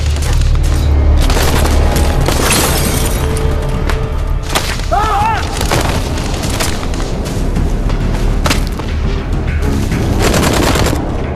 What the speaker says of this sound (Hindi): फायर एग्जैक्टली किस तरफ से आ रहा है?